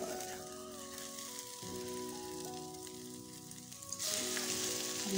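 A vegetable omelette sizzles steadily in a hot pan, then flares into a louder, brighter fry as it is flipped, with soft music tones running underneath.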